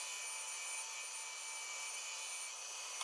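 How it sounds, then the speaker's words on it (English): A bandsaw cuts out small wooden pieces for a light-up mini Santa craft, giving a continuous bright hissing whine at steady loudness throughout, with no pauses. "we'll take over to the bandsaw and we'll just quickly cut these out on the bandsaw"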